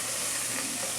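Mashed boiled potatoes with a few fenugreek seeds fry in oil for green egg curry, producing a dense, even sizzle and crackle that fills the moment without any talking.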